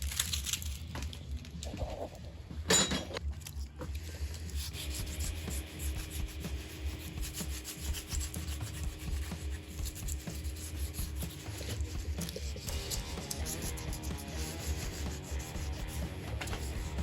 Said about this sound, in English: I'm just going to use the old aluminium foil trick. I'm going to bundle this up, get it nice and wet, and just rub it.